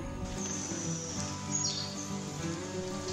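Honeycreepers calling in steady rain in Panama: thin high chirps and a brief descending call ring out over a constant wash of rainfall, close and moderately loud.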